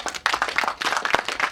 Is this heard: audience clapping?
yes